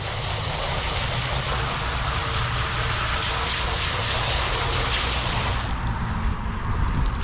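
A garden hose sprays a steady, close hiss of water onto rubber car floor mats for a 2023 Honda Civic Type R, running continuously and then cutting off near the end.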